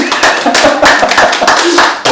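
Several people clapping in a Won Buddhist temple lecture hall, a few loose, uneven hand claps close by, mixed with voices talking over them.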